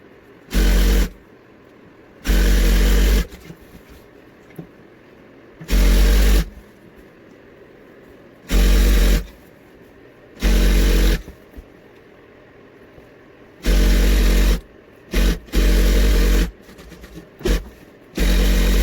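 A sewing machine stitching a large back-cushion cover runs in loud, steady whirring bursts of one to two seconds, separated by short quiet pauses, close and clear.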